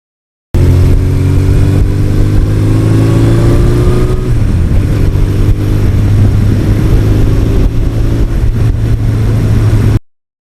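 A 1982 Suzuki GS1100E motorcycle is ridden on roads in lower New York and northern New Jersey; a loud, continuous engine drone holds steady throughout, its pitch dipping briefly as the rider shifts gears midway.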